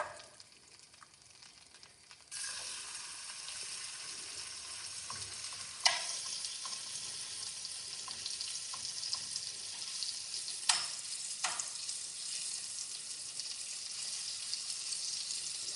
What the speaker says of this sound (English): I'm going to put some fish inside already so that we can start pan frying